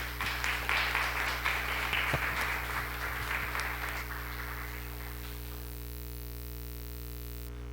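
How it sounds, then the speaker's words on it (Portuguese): A church congregation applauds in a burst of clapping that fades after a few seconds, leaving a steady electrical hum running underneath throughout. "E uma forte salva de palmas ao Senhor."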